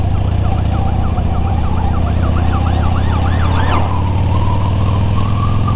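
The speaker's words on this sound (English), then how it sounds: "Oh, there's the police car. I'll hang fire, let them go past." A loud police car siren wails in rapid repeating sweeps as it passes close by over a steady traffic rumble, its pitch dropping sharply as it goes past, with no voices.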